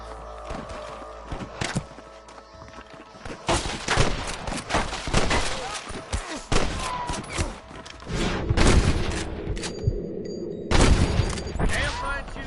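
Gunfire from a Red Dead Redemption shootout: repeated sharp shots and booming bursts scattered throughout, some close and loud, some rapid like a fusillade, with thuds and movement between.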